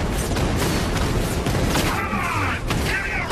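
Dense barrage of explosions and gunfire from the video game Batman: Arkham Knight, a continuous loud rumble of blasts and shots with whistling streaks near the end.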